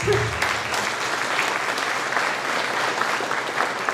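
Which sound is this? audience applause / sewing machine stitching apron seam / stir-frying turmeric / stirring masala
audience applause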